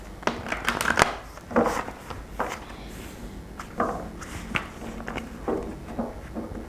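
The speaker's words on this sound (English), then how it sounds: "While I'm shuffling" Tarot cards being shuffled in repeated riffling bursts, each a soft papery flutter followed by a pause, close and moderately loud with no talking.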